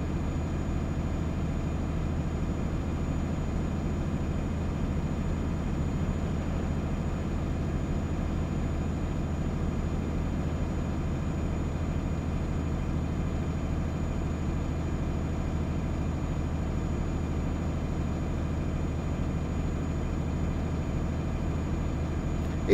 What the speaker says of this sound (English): I've got the turbo noise tweaked and increased, so I do like to hear a good turbo